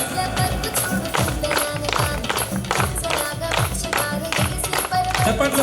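An audience at a felicitation ceremony claps steadily and rhythmically in unison, loud and close, with a voice talking over the clapping.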